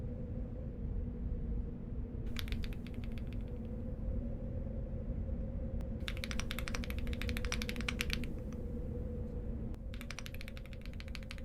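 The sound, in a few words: typing on a new computer keyboard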